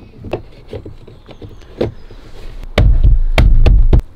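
VW Golf MK5 electric power windows running after a door repair, with a whirring motor hum and several clicks and taps, louder and closer near the end as a window travels.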